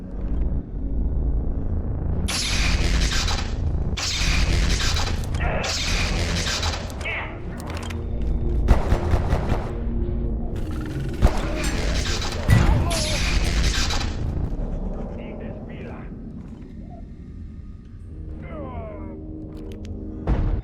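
Tesla coil weapon in the Abiotic Factor video game blasting in loud, sustained crackling bursts with heavy booming rumble, several surges across the stretch, dense and close throughout.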